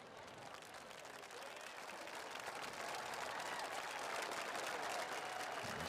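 A stadium crowd applauds an injured player, Cook, at a college football game between UAB and Georgia Southern, a broad, distant wash of clapping and crowd noise that swells gradually.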